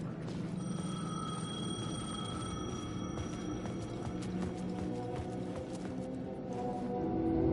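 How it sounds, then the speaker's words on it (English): A payphone in the video game Alan Wake 2 rings with repeated electronic bell bursts over a low, dark ambient drone that swells toward the end. "The payphone was ringing."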